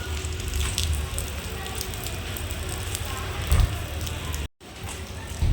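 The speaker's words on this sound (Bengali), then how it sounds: "পুরো বৃষ্টি পড়ছে ঝিরিঝিরি।" Light drizzle falling, a steady fine patter and hiss of rain with faint clicks on surfaces, continuous throughout apart from a brief dropout near the end.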